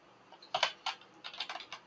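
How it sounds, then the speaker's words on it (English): Keystrokes on a computer keyboard while entering commands, a burst of quick close taps followed by a steadier run of clicks, moderately loud against a quiet room with no talking. "Okay, click to Control O, yes, Control X, then write Docker"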